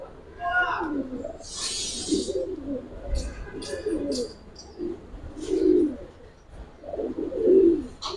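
Kaldom pigeons cooing in low, soft bursts at a steady rhythm, with a brief bright chirp early on and faint background noise between the calls.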